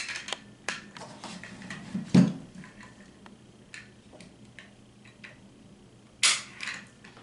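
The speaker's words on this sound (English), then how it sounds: "Let's try the trigger pull." A Taurus TX22 pistol's trigger breaking, heard as two sharp, dry clicks several seconds apart, close and clear against a quiet room with faint handling noise.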